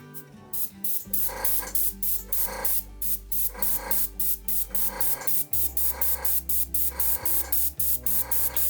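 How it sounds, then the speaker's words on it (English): An airbrush sprays and dries flower petals, its hiss coming in steady rhythmic bursts roughly every half second over a constant low hum, close and loud throughout. "angle your airbrush away from the petal, from the tip of the petal"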